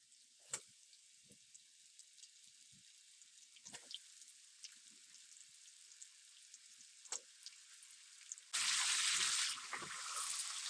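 Beef frying in a pan for stroganoff, quiet sizzling with a few scattered taps and pops, then a sudden loud burst of hissing near the end as the meat hits or is stirred in the hot pan; no speech.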